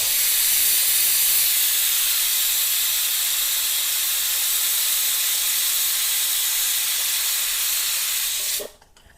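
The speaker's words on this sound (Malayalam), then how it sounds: "അടുത്ത വിസിലിന് വേണ്ടി എൻ്റെ കുക്കർ റെഡി ആയിക്കൊണ്ടിരിക്കുകയാണ്" A loud, continuous hiss of steam escaping from a pressure cooker before its whistle holds steady for several seconds, then cuts off abruptly near the end.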